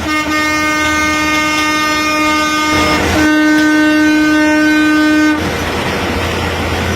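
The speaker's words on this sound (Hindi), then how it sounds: "लेकिन उस हॉर्न की आवाज़ बाहर के बजाय अंदर आ रही है।" Horn of a UP Roadways bus, heard from inside the bus, sounding as a loud sustained tonal blast that holds through most of the clip, briefly dips, then resumes before cutting off over steady engine and road rumble.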